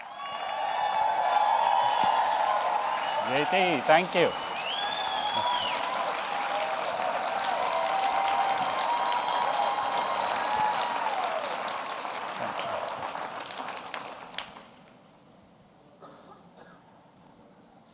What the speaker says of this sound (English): Please give Vikas a big round of applause.